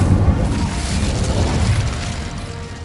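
A fiery Incendio spell bursts out in a wizard game, a loud, dense explosive whoosh that roars steadily for about three seconds, heavy in the low end, with no voices.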